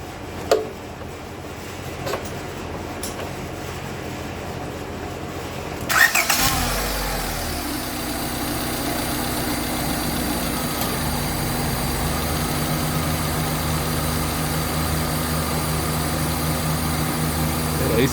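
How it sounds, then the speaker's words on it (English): After a quiet stretch, a Honda car's AC compressor and fans kick on with a sudden clunk, then hold a loud, steady whir and hum that runs on without speech. "The AC kicked on, the compressor's on, the fans are on."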